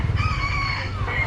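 A rooster crows once at close range during a trip in Kanchanaburi, Thailand, a drawn-out call over a low rumbling background.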